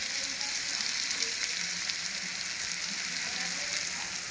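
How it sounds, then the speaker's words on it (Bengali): Onions frying in a pan, giving a steady, even sizzle throughout, close by and moderately loud with no speech. "আর এখানে পেঁয়াজ ভাজছে,"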